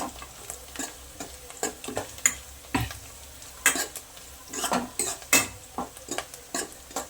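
Sautéing in a pan until golden while making tomato thokku, with a soft sizzle under repeated sharp scrapes and clinks of a spatula stirring against metal in an uneven rhythm, no talking.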